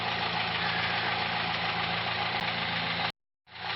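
A Ferguson tractor engine idles steadily close by, a loud even rumble with a constant drone that cuts out abruptly near the end and then returns.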